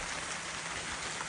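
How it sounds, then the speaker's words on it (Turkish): Steady rain pours onto a surface, a dense continuous hiss with no voices, close and even throughout. "Yağmur başladı. Geldi bak yağmur."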